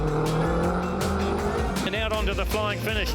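Subaru Impreza WRX race car at a street-attack motorsport festival, engine roaring loud and close with rising and falling pitch as it passes at speed, under an excited commentator's voice.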